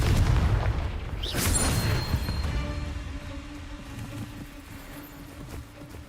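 Spell explosions from Bombarda and Confringo in the wizarding game Hogwarts Legacy: a heavy, close boom with a bright whooshing burst, then a long rumbling decay that fades over several seconds.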